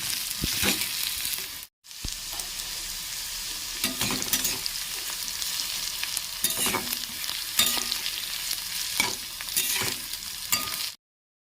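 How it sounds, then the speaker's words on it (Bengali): Bitter gourd and potato fry and sizzle in a pan with steady crackle, broken by repeated scraping stirs and one brief pause near the start, close and fairly loud. "এরপরে আমি করলা আলুটা ভাজছি"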